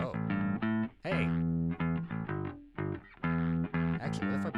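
A bass guitar played through heavy distortion, a run of punchy, buzzing notes and short riffs with brief gaps, loud and close with no talking.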